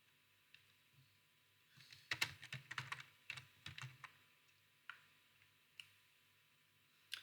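Computer keyboard typed in short bursts of quick, light clicks at a desk, close and fairly quiet, with a few isolated keystrokes afterward and no talking.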